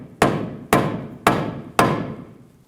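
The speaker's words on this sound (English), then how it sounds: "just tap it in position." A rubber mallet strikes a front lower control arm on a 2013-17 Nissan Sentra four times, with evenly spaced, solid thuds close by and no talk.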